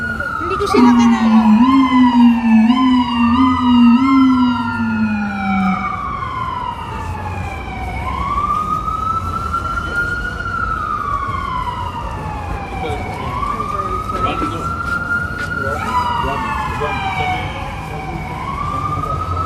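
Wailing sirens sweep up and down repeatedly over steady street rumble in Manhattan, New York City, one siren nearer and another following, loud and continuous.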